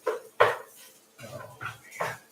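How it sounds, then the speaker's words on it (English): Rice stirred in a pot on the stove, giving a few scattered scraping and clinking strokes of a utensil against the pot in short separate bursts, close and fairly quiet. "stir that rice"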